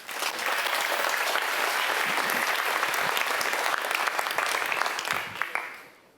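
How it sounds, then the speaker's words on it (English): Sustained applause from an audience before a spoken word performance, loud and dense for several seconds, then tapering off into a few scattered claps. "Can I have a round of applause?"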